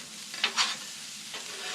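Rice frying in a little over a stick of butter for chicken fried rice, stirred in a pan: a steady close sizzle with a few sharp scraping strokes of the utensil, no voices.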